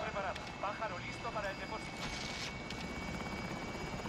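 Helicopter in the Warzone video game, a steady whirring rotor drone running throughout, with players chatting over it and brief other game noises.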